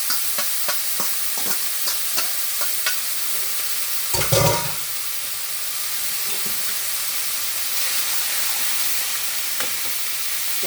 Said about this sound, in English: now I'm just going to return the meat back to the pan.